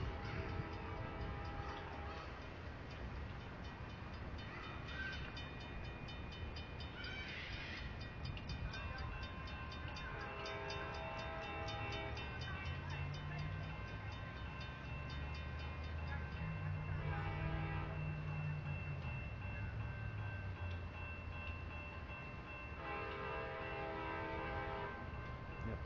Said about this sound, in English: Here comes IO44, the northbound intermodal train from Tampa, Florida to Jacksonville, Duval Yard in Florida.